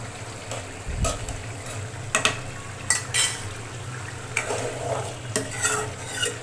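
Raw jackfruit curry is stirred in a pan after a little ghee goes in, with several sharp spoon scrapes and knocks over a low, steady simmering hiss.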